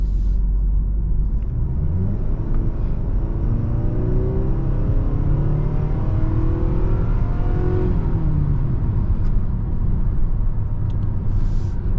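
A 2022 Nissan Sentra accelerating onto a highway, heard from inside the cabin as a loud steady engine drone with rising and falling pitch sweeps over constant road rumble.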